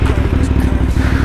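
Modified Suzuki Thunder 125 supermoto with a 400cc bore-up engine running close by, a rough, throbbing rhythmic engine note, loud and continuous.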